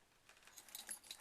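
Keys on a keychain with a lanyard jingle briefly, a soft metallic rattle of a few light clinks lasting about a second.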